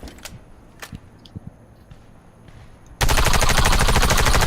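Sustained rapid automatic gunfire at a target range in the video game Warface, bursting in loud and dense after a few seconds of faint scattered clicks and ambient noise.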